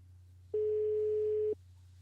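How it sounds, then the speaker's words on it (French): A single ringback tone sounds on a telephone line while a call is being placed, one steady beep lasting about a second between stretches of faint line hum. "Ça devrait sonner bientôt. On attend donc la sonnerie."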